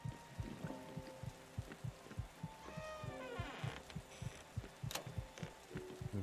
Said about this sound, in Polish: Czemu moje serce bije szybciej?